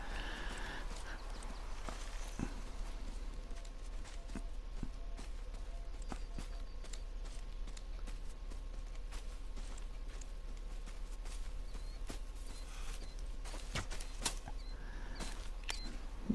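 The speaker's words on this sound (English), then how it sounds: "There's another cow moose over there coming in." A cow moose walks in through the brush, her hoof footsteps soft and irregular against a steady outdoor background, with occasional sharper snaps and thuds scattered over about sixteen seconds.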